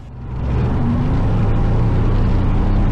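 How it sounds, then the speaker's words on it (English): A glider tow plane on the runway powers up its engine for an aerotow, a loud, steady, close roar building over the first half-second and holding. "the tow pilot informs the tower, tow plane starting, and powers up the engine"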